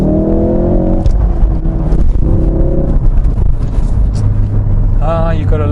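A Ford Focus RS engine revs loudly and up close, its rising harmonic tones climbing and falling in several pulls over a steady drivetrain rumble, with brief speech-like sounds mixed in near the end.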